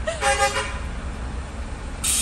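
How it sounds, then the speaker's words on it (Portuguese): A short car horn toot sounds twice in quick succession over a steady background of road traffic rumble. "Pra quem que tá buzinando?"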